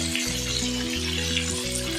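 Green chillies and tomato sizzle steadily in a pan for a hilsa fish recipe with aubergine and potato, a continuous close frying hiss with faint stirring, under a low steady kitchen hum and no talk.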